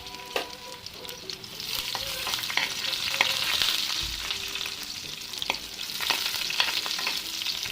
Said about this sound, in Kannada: ಈಗ ಇದನ್ನು ಬೆಳ್ಳುಳ್ಳಿಯನ್ನು ಎಣ್ಣೆ ಬಿಸಿ ಆಗಿದೆ, ಇದನ್ನು ಫ್ರೈ ಮಾಡಲಿಕ್ಕೆ ಹಾಕ್ತೀನಿ.